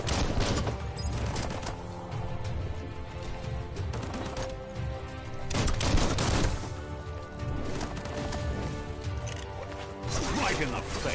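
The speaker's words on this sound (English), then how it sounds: "Bullets everywhere." Dense, continuous gunfire from the video game Biomutant rattles throughout, with overlapping shots, clanks and impacts under occasional speech.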